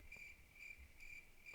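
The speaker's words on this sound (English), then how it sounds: "Those crickets." Crickets chirping in a quiet, faint night ambience, a regular pulsing trill that repeats about every half second over low background hiss.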